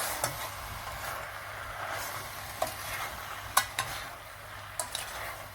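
A spoon stirs chicken and turkey curry in a pot, soft scraping and a low simmering sizzle, with a few sharp clicks of utensil against metal, close and quiet.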